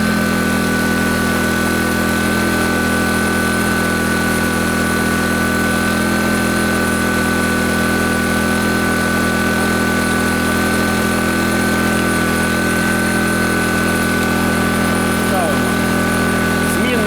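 A GENERGY IBIZA 1.0 kW inverter generator runs at idle, a steady, loud engine drone with a constant hum that holds unchanged throughout.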